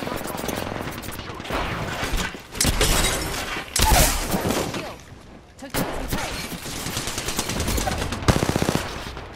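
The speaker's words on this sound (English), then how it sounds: "that other team is shooting at me" Rapid automatic gunfire from a firefight in the battle royale game Apex Legends, loud bursts arriving in waves with short pauses and some shattering impacts, with voices talking over parts of it.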